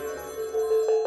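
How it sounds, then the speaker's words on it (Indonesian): A telephone rings with a steady electronic bell tone that grows slightly louder and pulses near the end, heard alone and close without any talk. "aku mau angkat telepon bentar."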